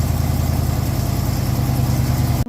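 A Plymouth Cuda's 392 Hemi V8 idles through a new exhaust, a loud, close, lumpy low rumble pulsing steadily before cutting off abruptly at the end.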